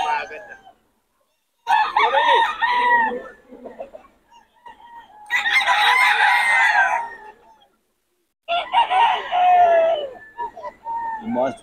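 Roosters crowing in three long, loud, close bursts separated by short pauses, with chickens clucking faintly in between, at a gamefowl sale in Pangasinan.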